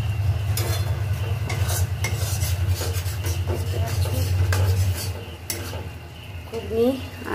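Ghugni masala being stirred in a pan, with steady scraping and clinking of a utensil over a low continuous hum, some faint background voices and a brief louder clatter near the end.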